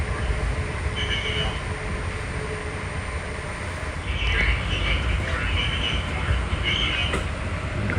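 A PATCO subway train arriving at the 8th and Market station, a steady low rumble of wheels and motors inside the car with intermittent higher squeals and hiss, continuous and fairly loud.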